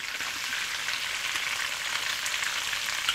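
Pork belly sizzles in a hot pan while being stirred, a dense, steady crackling hiss up close with faint scraping, continuous and without talk.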